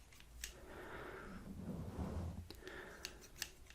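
Scissors snip through hair during a quiet, soft-spoken haircut, a few close crisp cuts over faint background rustle.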